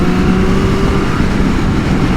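Triumph Street Triple 765 RS motorcycle engine pulling in fifth gear after a downshift toward 4,000 RPM, a loud steady engine drone with strong wind rush throughout, no voices.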